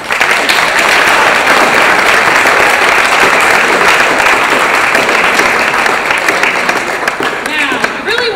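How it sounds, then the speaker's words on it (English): Loud, sustained applause from a school transition program audience of students and teachers, a dense steady wash of many hands clapping for about eight seconds that eases slightly near the end. "Give them a big round of applause."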